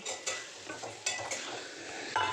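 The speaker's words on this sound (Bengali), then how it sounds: "আলু আর ফুলকপিটা আমি দিয়ে ভালো করে নেড়ে ছেড়ে নেব" Potatoes and cauliflower are stirred and fried in oil with spices and poppy seed paste for a curry, making a steady close sizzle with repeated scraping strokes of a spoon against the pan and no talk.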